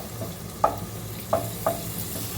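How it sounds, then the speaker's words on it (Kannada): A spoon stirs thickening tamarind gravy for poha puliyogare in a pan, giving three short, distinct scrapes over a faint background hum, with no talking. "ಇದನ್ನು ಮಾತ್ರ ಮಿಕ್ಸ್ ಮಾಡ್ಕೋತಾ ಇದ್ದೀನಿ"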